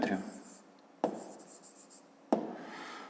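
Handwriting on paper while working a fifth-grade math exercise: soft scratchy pen strokes in close, short bursts, each starting with a sharp tap, under a voice speaking.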